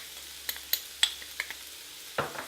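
Noodle flavourings including turmeric get mixed in a pan, a soft background sizzle broken by several sharp spatula taps and scrapes at uneven intervals, close and fairly quiet with no talking.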